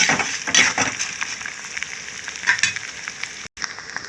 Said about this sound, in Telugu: అలాగే ఎండుమిరపకాయలు కూడా వేసేసుకున్నాను అనమాట వీటితో పాటు వేగిపోతాయి కదా మనకి ఫ్రై అయిపోతాయి చక్కగా